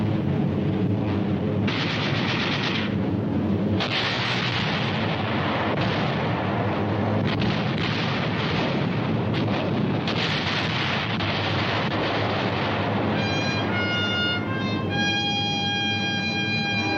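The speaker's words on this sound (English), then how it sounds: "Delayed action bombs." Delayed-action bombs exploding among Japanese supply ships, a continuous loud rumbling roar of blasts with no pauses, turning to a steadier whining drone near the end.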